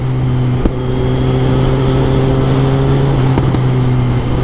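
Engine of a newly bought motorcycle on a first ride, a steady droning hum with strong low harmonics held close and loud throughout, with slight pitch shifts near the start and end.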